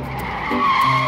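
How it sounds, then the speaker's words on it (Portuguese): Cartoon sound effect of a car pulling up with screeching tires, a short, loud tonal squeal lasting about a second with no talk. "Vejam, aí vem um carro."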